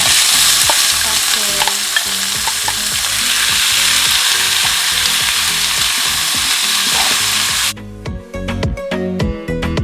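Ground pork sizzles loudly in a hot pan while a utensil scrapes and stirs in a steady rhythm, then the hiss cuts off and only scattered scraping and clanks remain.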